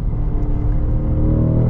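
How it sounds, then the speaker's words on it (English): A 2024 Cadillac CT5-V Blackwing, a rear-wheel-drive sedan with an automatic, accelerates hard with a loud, steady, deep engine roar heard from inside the car, with no talk. "it accelerates very, very fast"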